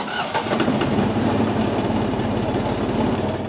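A small Arlan farm tractor with a 25-horsepower engine runs steadily and close by, a continuous mid-pitched engine drone with no talk over it.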